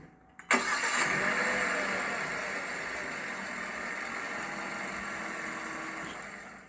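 A 2016 Hyundai Sonata Sport with the 2.0-litre turbo engine cranks once and catches, then settles into a smooth, steady idle heard close and fairly quiet, with no talking.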